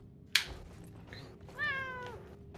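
A cat gives a single clear meow after a sharp click, fairly close and loud, with no talking.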